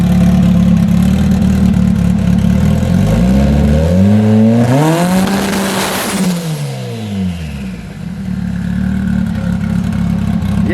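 A Nissan G35 sedan engine runs on a dyno, revving up through a long rising sweep that peaks and falls back. It then settles to a loud, steady drone with no talk over it.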